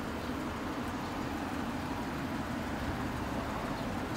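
A 2003 Mercury Marauder engine fitted with aftermarket mufflers, a little louder than stock, holds a steady, fairly quiet rumble throughout with no voices.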